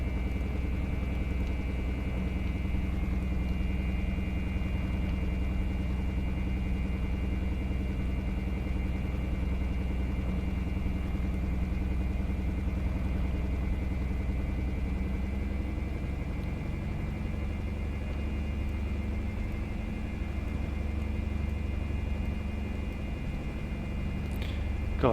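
Beechcraft Bonanza V-tail piston engine at about 25 inches manifold pressure, a steady, loud, even drone with a constant high whine, droning on without pause for the whole stretch.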